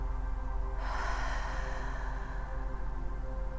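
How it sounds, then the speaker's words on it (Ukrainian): One deep breath drawn in and released slowly through the mouth during a mindfulness practice, a soft airy rush that swells in the middle over a faint steady hum, with no speaking. "Зроби глибокий, приємний вдих і м'який повільний видих через рот."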